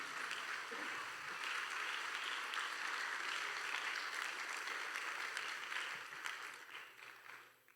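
A church congregation applauds: a sustained wash of many hands clapping, fairly faint and distant, holding steady before tapering off at the end.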